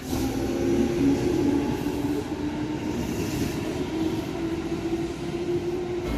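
A Keihan Railway train rumbles through a station in Kyoto, giving a loud, steady roar with a sustained tonal hum over it throughout.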